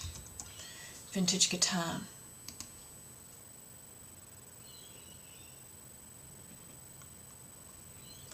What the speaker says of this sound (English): you've noticed my dyslexic typing again.